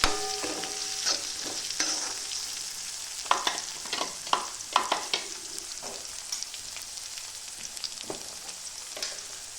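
Chopped green chillies fry in oil alongside peanuts and potato for sabudana khichdi, giving a steady close sizzle broken by scattered stirring scrapes and light spatters, with no talking.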